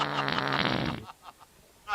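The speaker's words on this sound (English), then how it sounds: "it's a fucking pig that farted" A pig in a video game lets out a loud, buzzing fart lasting about a second, followed by quieter sounds and a voice.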